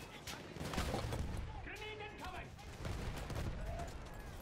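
Battlefield 1 campaign combat, rattling bursts of gunfire with distant shots under a voice speaking and brief mechanical tones, fairly quiet in the mix.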